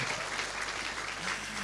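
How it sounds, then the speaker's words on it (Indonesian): A brief burst of audience clapping fills an office visit by a Ramadan television program at Indosat in Bandung, a steady wash of applause that stays moderately quiet and even throughout. "Tepuk tangan untuk Indosat."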